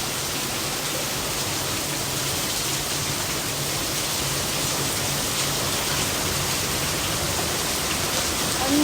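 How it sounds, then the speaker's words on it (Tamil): Steady rain pours down in Maharashtra, a dense, continuous hiss that holds level for the whole stretch, close and fairly loud with no talk over it. "இங்கே மகாராஷ்டிராவில் மழை ஆரம்பிச்சிருச்சு, நீடிச்சிருச்சு."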